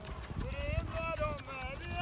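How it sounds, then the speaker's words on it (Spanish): Horse hooves clip-clop on the ground while a horse runs and dances to loud music, with people talking over the rhythmic clatter. "Que corra el caballo."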